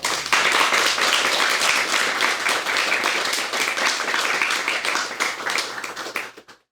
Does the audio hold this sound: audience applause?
yes